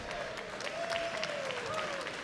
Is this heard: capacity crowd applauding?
yes